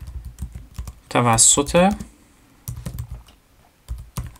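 Rapid clicking keystrokes on a computer keyboard while typing text into a PowerPoint slide, close and fairly loud, with a person speaking over part of it.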